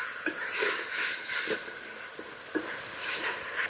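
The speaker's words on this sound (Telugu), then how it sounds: "అదే అల్లం వేసుకుంటాం చూడండి. ఇలా పచ్చివాసన పోయేదాకా వేయించుకోవాలి" Chopped ginger frying in hot oil in a pan while egg pulusu is being cooked, giving a steady bright sizzle and hiss that swells and eases throughout, with no voices.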